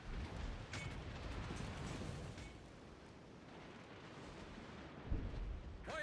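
Naval gunfire and shell hits in World of Warships, a faint, steady rumbling battle bed with muffled booms and a sharper impact near the end.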